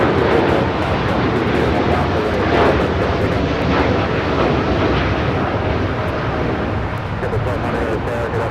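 A Japan Airlines Boeing 787-9 Dreamliner in oneworld livery takes off at Los Angeles International Airport with a loud, continuous, broad jet engine roar throughout.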